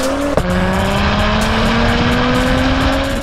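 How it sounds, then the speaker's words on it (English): An Acura TLX Type S engine revs loudly through its factory active exhaust with a steady, rising drone and a raspy exhaust tone, close and continuous for a few seconds. "So this exhaust, y'all know, is an active exhaust."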